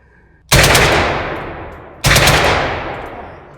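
Two loud, close AK-20 rifle shots with subsonic rounds boom at an outdoor range about a second and a half apart, each with a long, rolling echo that trails off.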